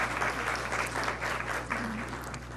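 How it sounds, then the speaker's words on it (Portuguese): An audience at a talk on blog and social media metrics applauds the moderator being called up, a continuous wash of many hands clapping, fairly distant and soft, without speech. "Uma salva de palmas."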